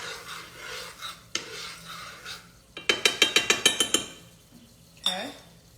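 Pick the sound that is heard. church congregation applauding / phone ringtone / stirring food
stirring food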